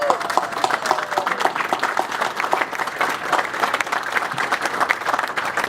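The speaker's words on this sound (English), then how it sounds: "Give them a clap." Steady applause from an audience at a golf event dinner, dense clapping throughout with a faint murmur of the crowd.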